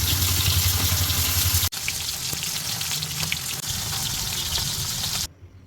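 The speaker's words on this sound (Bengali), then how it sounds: "এখন মাছটা ভেজে নেব।" Fish fries in a pan with a continuous close hiss and crackle, a brief break after the first moment, then steady sizzling that cuts off abruptly near the end.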